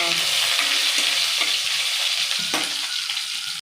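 Steady, close sizzling of cumin, mustard seeds, red chili and curry leaves frying in hot ghee, a continuous crackling hiss with a few sharper pops, ending abruptly.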